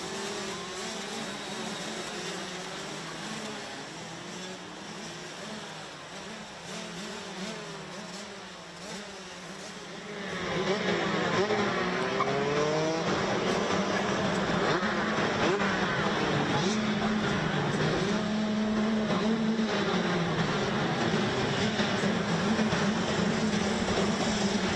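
Pack of Rotax racing karts at Wackersdorf rolling toward the start, a buzzing engine drone that swells sharply about halfway through as the field accelerates, loud and sustained with nobody talking.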